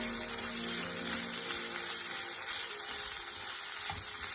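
Oats upma with vegetables is stirred in a frying pan, a steady continuous sizzle with a bright hiss and soft stirring movements underneath.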